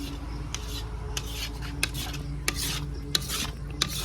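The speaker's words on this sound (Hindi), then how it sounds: "निरंतर ऐसे चलाते रहिए।" Besan (gram flour) is roasted and stirred steadily in a pan, giving a continuous dry rasping scrape with regular sharper scratches about every half second, close and moderately loud with no talk.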